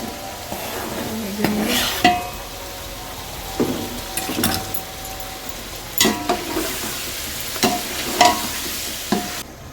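Coarsely chopped tomatoes, five of them, frying for chicken pulao, a steady sizzle broken by periodic louder spoon scrapes and stirs every couple of seconds, no voices.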